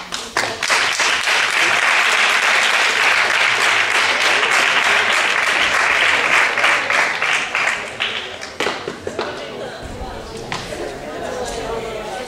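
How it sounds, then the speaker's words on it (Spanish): An audience at a university lecture claps loudly and steadily for about eight seconds, then the applause breaks into scattered claps and fades. "Yo quería solamente resumir pidiendo un aplauso por el magisterio y por la tecnología."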